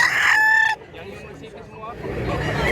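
A gamecock rooster's crow ends with a sharp, loud final note, close by. Faint outdoor background and low murmurs follow.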